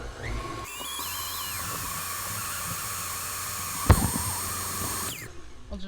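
Electric mixer whipping cream into homemade butter: a loud, steady high-pitched whine with a shifting tone, briefly interrupted by a clunk, up close with no talking.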